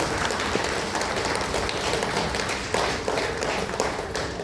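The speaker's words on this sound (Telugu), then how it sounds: "ఒకసారి గట్టిగా చప్పట్లు కొట్టాం పత్రిజీ గారికి" An audience applauding a spiritual teacher at a meditation gathering, dense sustained clapping that holds steady throughout, loud and close.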